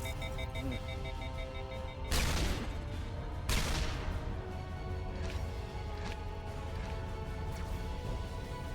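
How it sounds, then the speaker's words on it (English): Gunfire in the video game Mass Effect, two sharp loud blasts followed by several fainter distant shots over a steady electronic hum and music-like drone. "gunfire! Fire!"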